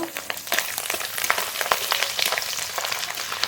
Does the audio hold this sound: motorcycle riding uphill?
no